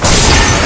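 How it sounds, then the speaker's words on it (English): A loud, dense explosion of a turret being destroyed in the Mobile Legends video game, a short booming blast that fills the whole moment. "Our turret has been destroyed."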